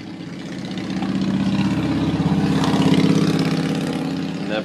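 Engine of a passing motorcycle heard outdoors, a steady mid-pitched motor drone that swells louder toward the middle and then eases, with no talking over it.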